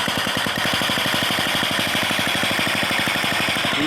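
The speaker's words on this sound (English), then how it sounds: "We're going to open the valve up on the pump and see if she pumps oil like she should." Double diaphragm pump moving waste oil, a steady loud rapid thumping pulse like a fast engine knock, continuous and close with no talking.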